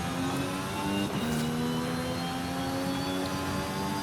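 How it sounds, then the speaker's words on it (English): A hybrid car engine in Forza Horizon 5 hums at steady speed, a smooth continuous drone with sustained whining tones and a faint brief swell, heard alone without speech. "I love the sound of this car's engine."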